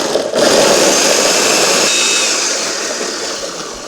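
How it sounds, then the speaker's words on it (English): An old blender whirs a mango and pineapple smoothie: a loud, steady motor roar up close that holds for the whole stretch and eases only slightly toward the end, with no talking. "don't mind my blender. It's a little old and seen its days, but everything in, blend that up."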